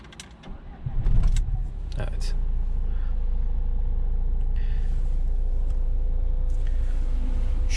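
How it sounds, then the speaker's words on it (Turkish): A Renault Fluence engine cranking and catching, a loud starter burst followed by a steady close idle rumble, with occasional clicks and a voice talking over it. "Hemen şuradan bir aracımızı çalıştıralım ilk önce."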